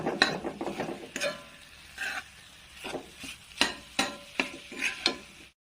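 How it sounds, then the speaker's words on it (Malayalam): Tomato rice being stirred and mixed in a pan, a spoon scraping and turning it in a steady series of rhythmic, close scrapes with a light sizzle beneath. "നന്നായി മിക്സ് ചെയ്ത് കൊടുക്കാം"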